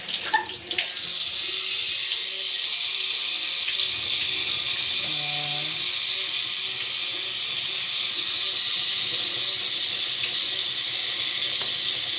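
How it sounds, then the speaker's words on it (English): Water runs steadily from a tap while product is rinsed out of curly hair, a continuous close hiss and splash with slight changes in flow over twelve seconds and no talk. "Looks like I'm rinsing out product."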